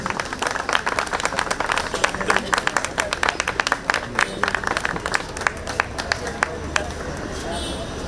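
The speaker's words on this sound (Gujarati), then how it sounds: "જોરદાર તાળીઓથી કીર્તિભાઈને વધાવી લેજો." An audience applauding at an honouring ceremony during a group cycle pilgrimage event, steady dense clapping with sharp individual claps standing out, lasting several seconds and tapering slightly toward the end, with background voices.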